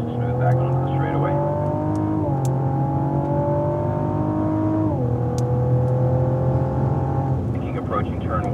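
A 2016 Cadillac ATS-V accelerates hard on a race track, its engine note loud and close, climbing in pitch through the gears with brief dips at each shift, and talk is heard over it.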